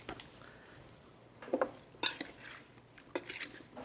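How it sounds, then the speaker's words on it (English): A lemon peel is zested in a quiet kitchen while making pear crumble, giving a few soft scraping strokes and light metallic clinks spaced apart. "The lemon peel, you know, I think I'd like some of that in here too, so let's zest some."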